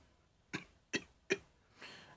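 Three short, sharp coughs in an even rhythm from a single voice, close and fairly quiet, followed by a softer breathy sound, in a dramatised Christmas Carol scene with no talking.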